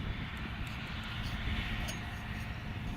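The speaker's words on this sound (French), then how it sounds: "Ainsi équipé, l'avion retourne à l'aérodrome." An electric airplane heading back to the aerodrome makes a steady, broad rushing drone that holds even and moderately loud throughout, with no voices.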